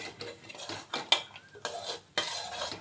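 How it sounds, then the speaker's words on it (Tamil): Jaggery is stirred into milk and moong dal in a heavy pot, with a few short scraping and clinking strokes of the spoon, near but fairly quiet, with no talking. "இந்த வெல்லத்தை இதில் போட்டு நல்லா கிளறிட்டு"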